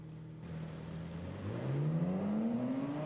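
A car in the BeamNG driving game accelerates hard, its engine note climbing steadily in pitch and growing louder over a few seconds, heard close and alone.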